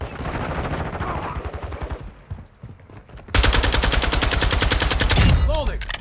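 Rapid automatic gunfire from Call of Duty: Modern Warfare 2, loud and close, with bursts at the start, a brief lull, then a sustained, relentless stream of shots with a whizzing sweep near the end.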